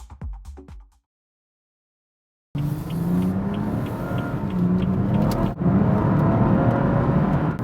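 A BMW 4 Series with the N55 engine drives along after a brief silence, its engine note and road roar steady and loud from inside, with a short dip before the sound resumes.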